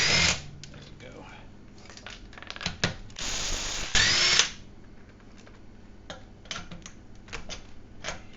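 A small Ryobi power tool drives sleeved lug nuts on a Malibu rear hub. It gives a loud, strained whirring burst that lasts about a second, with scattered clicks and tool handling before and after.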